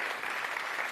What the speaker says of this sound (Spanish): fuerte el aplauso para la justicia entonces, señoras y señores, que estuvo con nosotros